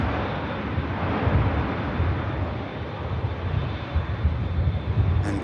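An airliner touches down at Manchester Airport, its engines a steady, rumbling roar with gusty low-end swells heard from a distance, no talking.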